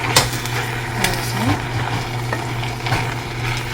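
Pork stir-fried with kimchi and garlic in a dry pan without oil, sizzling steadily under scraping utensil strokes, with occasional light clinks against the pan.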